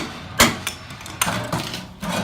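Sharp metallic hammer blows knock a seized part loose on scrap metal, one loud strike followed by a few lighter taps and knocks, close and alone.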